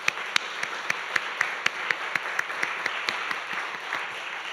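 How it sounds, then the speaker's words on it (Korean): A church congregation at a Wednesday worship service applauds in praise, a steady wash of hands with distinct sharp claps standing out at a fairly quick, regular rhythm, sustained and moderately loud. "하나님께 영광의 박수 올려드리겠습니다"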